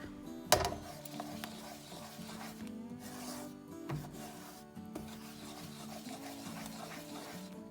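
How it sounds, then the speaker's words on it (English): Thick black bean paste filling being stir fried in a pan, a steady scraping and rubbing of the spatula with a sharper clack near the start, moderately quiet and continuous. "you need to continue to stir fry to make it not burn"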